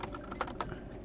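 Quick typing of a Linux command on a computer keyboard, a short run of close, crisp key clicks with two slightly louder strokes, no talking.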